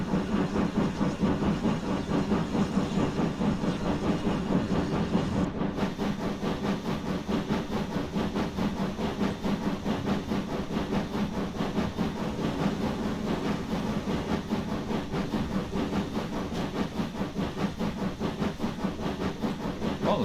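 A steam locomotive engine labours to accelerate along the track, giving a steady loud chuffing and rumbling with hiss throughout, continuous and close with no voices.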